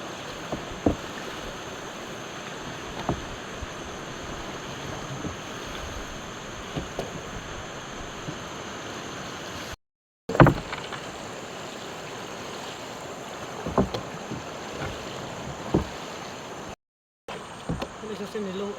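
A small fishing boat rides a river current, giving a steady wash of water and splashing with occasional knocks and bumps against the hull. The sound is moderately near and continuous, with brief dropouts.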